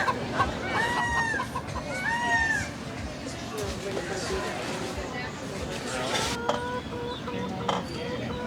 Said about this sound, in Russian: На острове живут очень живописные петухи и павлины.